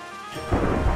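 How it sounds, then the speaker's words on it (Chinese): Thunder in Minecraft, a sudden loud crash that breaks in halfway through and rolls on as a low, heavy rumble over quieter game ambience. "打雷！"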